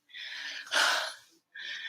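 A person catches breath after jumping jacks during a home Pilates workout, with two bursts of hard breathing around one sharper, louder gasp, close and alone.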